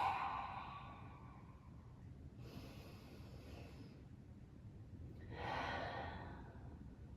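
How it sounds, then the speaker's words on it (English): Heavy, slow breathing from a yoga class, two or three long exhales and sighs swelling and fading, quiet and close with no talking. "Yoga is a lot about like breathing heavily together"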